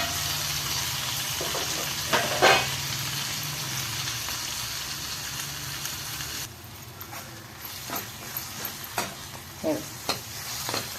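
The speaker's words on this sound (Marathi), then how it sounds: "कांदा चांगला परतून झाला की त्यामध्ये टॅमॅटो घालायचा" Onion and tomato sautéing in a pan for a sweet bitter-gourd curry, a steady close sizzle with a spoon stirring and scraping in short bursts, the frying hiss dropping quieter partway through.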